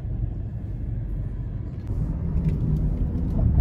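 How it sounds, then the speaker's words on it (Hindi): Low steady rumble of road traffic on a busy street in Canada, passing vehicles blending into a continuous drone that grows slightly louder toward the end, with no talking. "ट्रैफिक की हालत देखिए"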